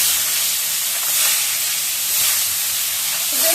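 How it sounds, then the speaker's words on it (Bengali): Fish frying in hot oil in a pan gives a loud, steady sizzle and hiss that fills the whole stretch, swelling slightly at moments, with no voices. "তেল গরম হয়ে গেলে আর মাছগুলো দিয়ে ভেজে উঠিয়ে নিই"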